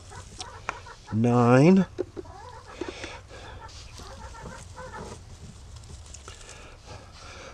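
A chicken or rooster lets out a single loud, drawn-out call in a poultry setting among duck and goose eggs, followed by quieter clucks and handling noises while someone talks nearby.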